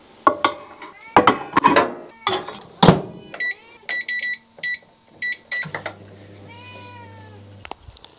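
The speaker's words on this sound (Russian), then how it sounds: "сейчас разогрею в микроволновке и буду кушать их вместе с лучком" Microwave oven reheating grilled pork shashlik ribs with onion in a kitchen, its steady low hum running under repeated beeps, with dish and cutlery clatter and a cat meowing near the start.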